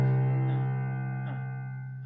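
Piano left-hand chord accompaniment: a sustained low chord ringing and slowly decaying, with soft repeated notes struck over it, close and quiet.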